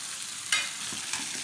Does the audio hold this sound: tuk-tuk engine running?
no